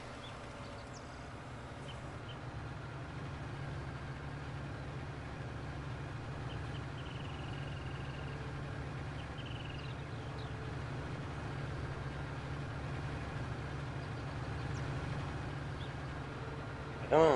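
A farm tractor engine runs steadily in a Bucks County field after liming, giving a continuous low, rumbling drone at moderate distance that stays even throughout.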